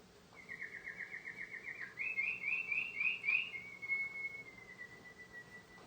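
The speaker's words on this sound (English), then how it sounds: "Yeah, so it's a canary." A recorded canary singing, played back: a rapid trilled phrase, then brighter warbling notes, then a long sustained whistle fading out, clear against a quiet background hum.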